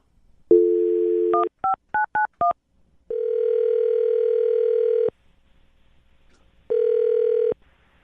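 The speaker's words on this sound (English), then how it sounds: "I'm going to dial the phone right now" A short steady tone, then five quick keypad beeps, followed by two longer buzzing tones with a pause between; clear and close, no voices.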